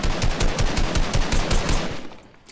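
Steady automatic gunfire in Fortnite, evenly spaced loud shots in a fast rhythmic string for about two seconds before tapering off.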